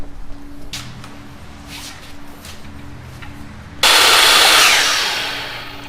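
A power saw bevel-cutting soffit wood at roof pitch starts partway through with a sudden loud whine, after a quieter stretch of light handling noises, and the roar then fades slowly as the cut runs.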